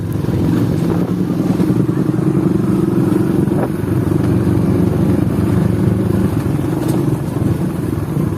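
A motorcycle rides on a rural touring trail in Pagar Dewa, West Lampung, with a steady, loud, close engine drone that holds throughout, plus rough road clatter and no talk.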